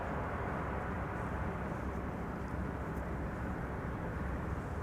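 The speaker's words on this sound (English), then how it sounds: "Vueling flight 1375 arriving from Alicante, an A320" A Vueling Airbus A320 arriving from Alicante approaches to land at Schiphol, heard as a steady, fairly distant jet roar and rumble that holds constant through the whole stretch, with no talk.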